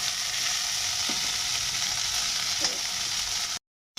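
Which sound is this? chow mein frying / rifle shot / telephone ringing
chow mein frying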